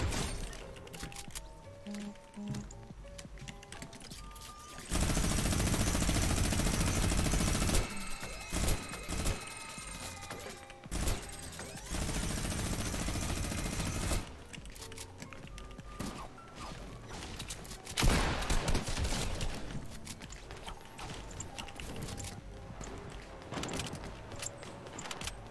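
Gunfire and sniper shots ring out in a multiplayer shooter video game, loud sustained stretches of fire and blasts broken by quieter gaps with mechanical clicks.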